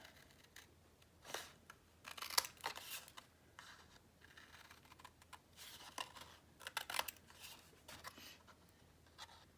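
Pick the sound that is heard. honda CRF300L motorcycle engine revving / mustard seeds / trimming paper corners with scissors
trimming paper corners with scissors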